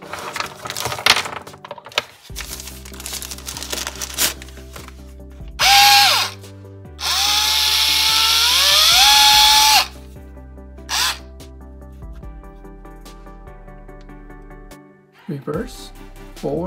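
A Fanttik Nex L1 Pro 3.6-volt electric screwdriver whirs in short bursts on its lowest torque gear, its motor pitch rising and falling, between stretches of close, clear talk.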